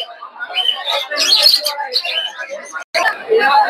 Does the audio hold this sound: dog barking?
no